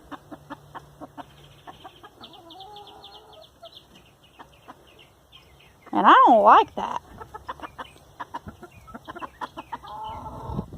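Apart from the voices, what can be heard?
rooster clucking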